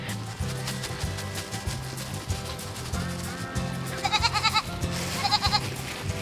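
Goats at a farm bleating repeatedly, several short wavering calls at close range, clustered more densely near the end over a steady background.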